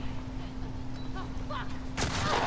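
Gunfire in The Last of Us Part II, a sudden loud blast near the end over steady game ambience and a low hum, with faint chirpy sounds before it.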